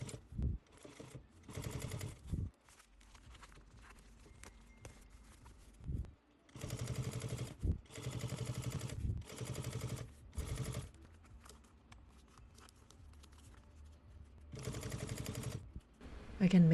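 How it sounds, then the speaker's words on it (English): An industrial sewing machine stitches over bulky seams on a travel tote, using a hump jumper. The mechanical stitching comes in several loud bursts of steady, rapid whirring, with quiet gaps between them. "Even with my industrial machine, I need to use a hump jumper to get over these seams"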